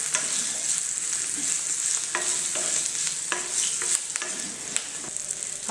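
Green chillies frying in a pan with turmeric and deggi chilli powder while being stirred: a steady close hiss and sizzle with repeated scraping spoon strokes, no talking.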